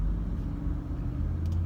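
Street traffic with a truck nearby, a dense, steady low rumble of engines and road noise lasting under two seconds.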